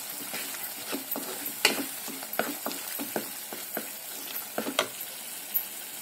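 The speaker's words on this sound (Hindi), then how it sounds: "इसको हम अच्छे से मिक्स कर लेंगे।" Cauliflower being stirred with chilli, coriander and turmeric powders in a hot pan, a soft steady sizzle punctuated by close irregular scrapes and taps of a spoon against the pan.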